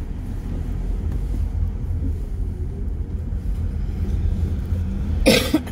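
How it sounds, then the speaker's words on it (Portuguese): A single short cough near the end, set against a low steady rumble of traffic, with a person nearby. "A tosse está aqui ruimzinha"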